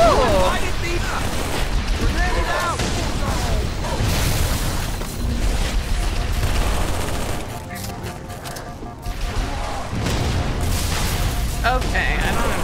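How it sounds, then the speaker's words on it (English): Power drain device going off amid a Halo 3 firefight, with bursts of rapid gunfire, booms and chaotic battle noise layered under excited talking. "It's a power drain, I think?"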